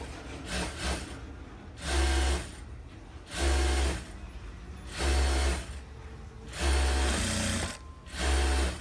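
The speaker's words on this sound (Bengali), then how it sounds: "এখন জয়েন করব প্লেন মেশিন দিয়ে।" A plain sewing machine stitches a stripe onto trousers in four or five bursts of rapid mechanical whirring and thumping, each a second or so long with short gaps between, close up and without talk.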